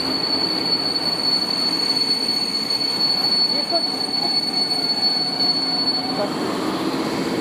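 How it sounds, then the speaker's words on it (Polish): A passenger train pulls into Rawicz station, wheels squealing steadily against the rails along with a continuous rolling rumble, loud and close for the whole stretch. "Wjeżdża pociąg."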